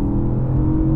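Steady, loud engine roar from a Porsche 911, Nissan GT-R NISMO, Audi R8 and BMW M850i accelerating hard side by side in third gear from 50 mph. A sustained low drone holds without a break, and no voice is heard.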